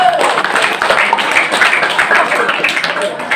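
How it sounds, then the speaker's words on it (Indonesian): Clapping from an audience honouring a candidate at an OPPNQ leadership vision and mission presentation, a steady, fairly loud patter of many hands throughout, with faint voices mixed in. "Berikan tepuk tangan sekali lagi."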